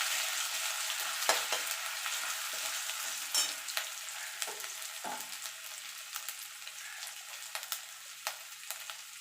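Grated ginger sizzles steadily in hot oil with dry chilli and a torn bay leaf for a vegetarian pumpkin curry, a continuous close hiss broken by occasional sharper crackles and pops, with no voices.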